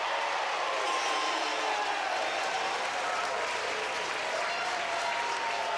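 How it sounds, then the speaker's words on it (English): Rugby stadium crowd at an Italy vs Wales women's Six Nations match applauding a try, a steady, dense wash of clapping and cheering from all around the ground, loud and sustained throughout. "the applause comes from around the ground because the crowd have seen it the same time as us"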